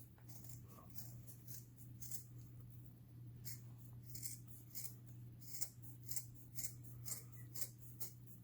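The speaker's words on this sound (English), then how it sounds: "And just cut around the exterior by about a quarter of an inch away from the stitch line." Scissors snip through purse fabric a quarter inch outside a stitch line, cutting from the lining side: soft, quiet repeated cuts over a steady low hum, growing a bit sharper and more frequent toward the end.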